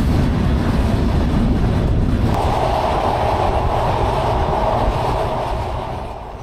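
Benapole Express passenger train running past, a loud steady rumble of wheels and carriages that holds throughout and eases off slightly near the end.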